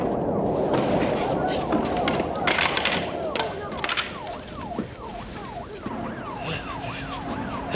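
An ambulance siren wails in a rising and falling pattern, growing clearer as it draws near, at the scene of an arrest for firearm possession. Voices and general commotion dominate the first half, then the siren takes over.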